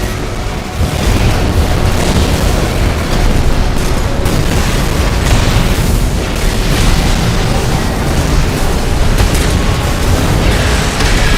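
A continuous, loud, dense roar of detonation blasts in the mech combat game Armored Core 6, with layered booms and crackling debris rumbling throughout.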